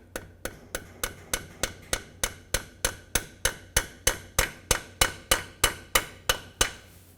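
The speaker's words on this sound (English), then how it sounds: "Now you can take your hammer, tap this in gently." A hammer taps a shift fork into the differential of a 1997–2003 Ford F-150, striking about twenty sharp metallic blows in a steady, even rhythm, close and distinct, with no talking.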